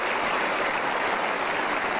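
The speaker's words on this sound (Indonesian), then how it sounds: "Boleh tepuk tangan untuk periode kedua" An audience applauds a second-term regional leader during a talk-show interview, a dense, steady wash of clapping that holds at an even level throughout with no voices over it.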